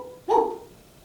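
A voice imitates a single dog bark, one short, sharp, close vocal "woof" with nothing else around it.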